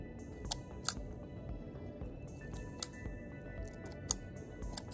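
Scissors snip loose strands off a plastic bottle bird feeder: several sharp, distinct close cuts spaced irregularly over quiet background, about five clear snips.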